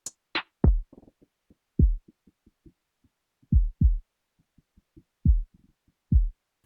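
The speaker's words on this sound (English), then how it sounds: "I want only the kick drum out of this loop to trigger my melody" Electronic loop in which a melody is sidechained to the kick drum, so deep, punchy kick hits land in an irregular groove with short ticking percussion between them, while the melodic layer ducks and pumps along with each kick; no voices.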